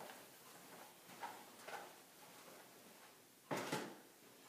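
A resident's bedside drawer is closed during mouth care, giving a few soft, faint knocks and slides, with a firmer bump near the end.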